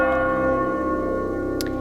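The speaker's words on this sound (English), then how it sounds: "Bell tolls." A church bell tolls once, and its deep ringing tone hangs and sustains evenly and loudly through the short moment, with a faint tick near the end.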